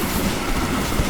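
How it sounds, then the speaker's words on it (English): A train rumbles loudly past on the tracks, a dense continuous roar with rattling wheel noise throughout the brief moment. "They crossed the train tracks just before the train passed"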